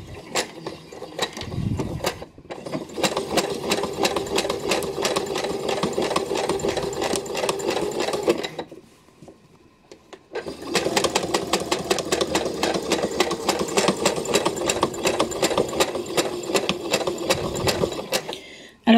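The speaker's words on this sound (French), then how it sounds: "je commence, en fait vous commencez un peu où vous voulez, par un petit marche-arrêt et on reviendra coudre jusqu'à l'endroit où on a commencé" Sewing machine stitching a thick fabric Easter basket with a back-stitch, running in a fast, steady mechanical whir close by, pausing briefly around the middle before starting again and continuing to the end.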